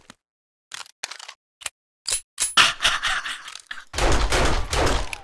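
Pistol gunfire in 7 Days to Die comes as a string of sharp, loud cracks, first single shots with gaps, then a rapid cluster, followed by a sustained noisy burst.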